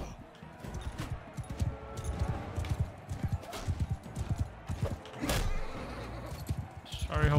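Horse hooves in Mount & Blade 2 Bannerlord pound in uneven galloping bursts amid battle noise, with a sharp clatter near the end, fairly close and loud.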